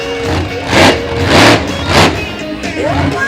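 The Dominator monster truck's engine revs in three big surges at a nighttime monster truck show during a wheelie over a stack of cars, swelling and falling with an announcer talking over it.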